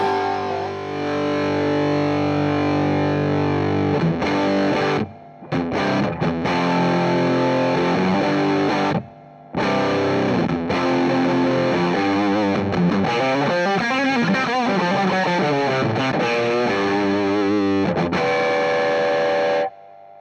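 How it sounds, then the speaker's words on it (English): Heavily distorted electric guitar through an EarthQuaker Devices Sunn Life V3 octave distortion pedal, distortion cranked, plays riffs and sustained notes with a thick octave-doubled tone, loud and saturated, with a few brief silent breaks. "Now, I had the distortion pretty much cranked up."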